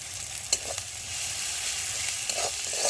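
Finely chopped green chillies frying with crushed garlic in a pan for aloo chokha, a close steady sizzle with a few light stirring taps.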